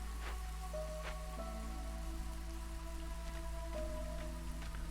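Soft drizzle in the city-building game Against the Storm: a continuous fine patter of raindrops under a steady low hum, with occasional light plinks and a faint tonal game ambience running throughout, no voices.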